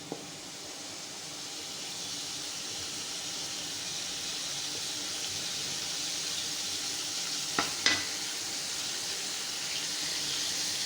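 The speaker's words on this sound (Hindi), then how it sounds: "तो हम इसको भूनते हैं।" Meat frying in a pan for a curry gives a steady, faint hiss of sizzling throughout. Two brief scrapes of a stirring utensil are heard near the end, and no one speaks.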